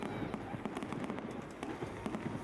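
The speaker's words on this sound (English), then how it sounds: "Fireworks going off, and there were fireworks in this one." Fireworks go off at an outdoor NHL alumni hockey game, a rapid run of distant crackling pops and bangs over crowd ambience.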